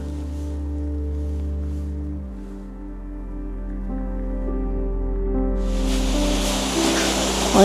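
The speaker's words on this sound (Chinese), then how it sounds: "我有一个小瀑布" A small natural waterfall on the Oregon coast swells into a broad rush of falling water over the last two seconds, after a steady low hum.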